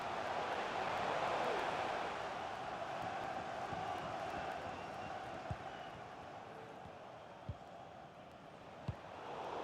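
Steady stadium crowd roar from a FIFA 23 football match, a broad continuous swell of cheering that rises early and then holds at a lower level, with a few sharp ball-kick thumps near the end.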